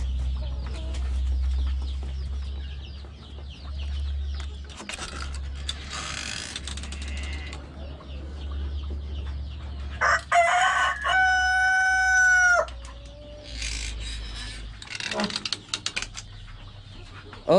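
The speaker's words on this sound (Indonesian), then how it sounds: "Nah, inilah ayam-ayam kita." A rooster crows loudly and clearly in the middle, with scattered chicken clucks and rustling over a constant low hum.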